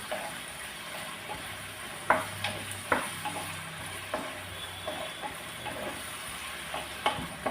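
Tomato sauce being stirred into a chili chicken mixture frying in a pan, with a steady sizzle under scattered scraping clicks of a spoon against the pan.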